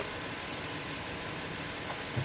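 A 2016 Honda Odyssey base model with a 3.5 liter engine idles quietly close by, a soft, even hum with no talking.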